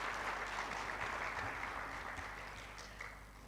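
Graduation ceremony audience applauding, a dense steady patter of many hands clapping that fades slightly toward the end, with no talk over it.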